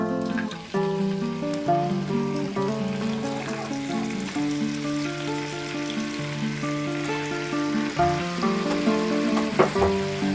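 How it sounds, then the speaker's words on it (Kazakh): Meat frying in oil in a cauldron (kazan) while preparing Nauryz kozhe, a steady dense sizzle with a few brief stirring clatters, close and moderately loud, with no talk. "Келесі етті саламыз."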